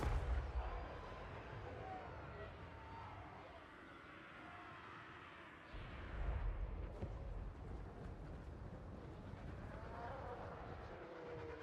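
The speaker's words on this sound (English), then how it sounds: "Take that, you homing ball of fire." Hell Cannon artillery fire in Total War Warhammer 3, deep rumbling booms amid a dense low battle roar, with a heavy impact swell near the middle and continuous distant explosive noise throughout.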